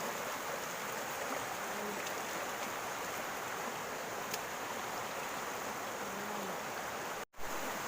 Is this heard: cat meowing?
no